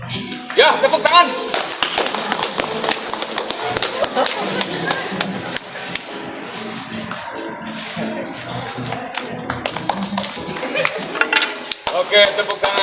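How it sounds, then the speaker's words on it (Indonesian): An audience claps loudly and continuously for a class theatre performance of Arifin C. Noer's play Matahari di Sebuah Jalan Kecil, dense applause over about thirteen seconds with voices mixed in. "Oke, tepuk tangan."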